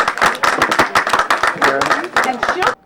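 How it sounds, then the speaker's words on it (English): An audience claps in a brisk, continuous round of applause, loud and close, many hands beating in a dense irregular patter that stops abruptly. "a good way to do that is to clap."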